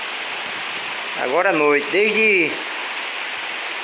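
Heavy rain falls at night in Queimadas, Paraíba, as a steady broadband hiss under someone speaking briefly in the middle.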